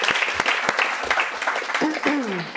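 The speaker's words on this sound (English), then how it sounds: "It's okay to clap." Audience applause at a talk on purpose-driven business, a broad wash of clapping throughout with a voice cutting in near the end.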